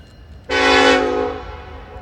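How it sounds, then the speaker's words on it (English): A train horn blasts suddenly at night, one loud sustained chord that holds about a second and then fades over low rumbling as the train passes. "a train coming through at around midnight"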